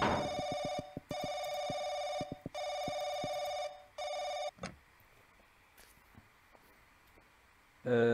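A telephone rings in the horror video game Paranoiac, loud repeated electronic bursts in an even rhythm, then it stops and a quiet room tone follows with a brief clatter at the end.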